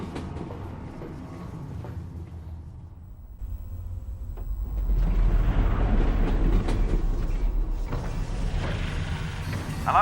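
In the Half-Life: Alyx video game, a train rides on rails with a low, continuous rumble, creaks and metallic clanks; the rolling noise swells and grows louder midway, then stays steady.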